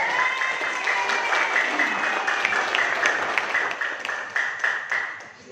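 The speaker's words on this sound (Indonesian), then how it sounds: "Aplaus." Audience applause for Star Leader award recipients at an anniversary sharing session, a steady dense clapping throughout that tapers off near the end.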